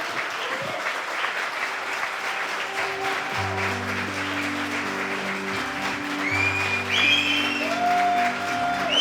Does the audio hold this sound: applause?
yes